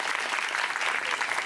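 Brief burst of steady audience clapping for a presenter at a sand-circus community event, a dense, moderately loud patter of many hands with no voices over it.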